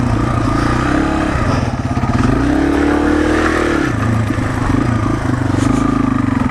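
Yamaha TW200 small dual-sport motorcycle ridden on a trail during a failed wheelie attempt: steady close engine drone with a rising rev and easing off, continuous throughout.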